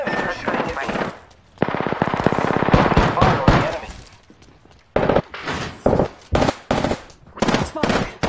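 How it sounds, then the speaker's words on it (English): In the Apex Legends video game, enemy gunfire rattles in loud rapid automatic bursts, first long streams and then a series of short sharp volleys separated by brief gaps. "The enemy is shooting at me."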